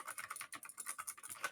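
A computer keyboard is typed on in a fast, even patter of light clicks, faint and close, with no talking.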